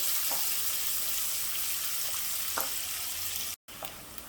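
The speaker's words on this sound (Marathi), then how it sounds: "कांदा चांगला ब्राऊन होईपर्यंत आपल्याला परतून घ्यायचं आहे तेलामध्ये" Onion fries in oil until brown for palak paneer, making a continuous, even sizzle close by, with a few faint clicks of stirring and a short break near the end.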